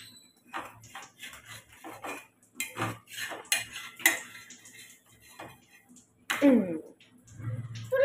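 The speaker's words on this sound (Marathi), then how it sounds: "तर भाकर पलटी मारली मी" Bhakri flatbread being flipped on a pan, with a series of light clinks and taps of utensils against the cookware, a louder scrape near the end and a faint voice briefly.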